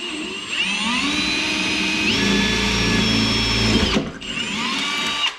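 A power drill with a new 3/16-inch bit whines steadily as it bores through metal while fitting a Silverado rocker panel cover, its pitch shifting under load before it briefly stops and then spins again.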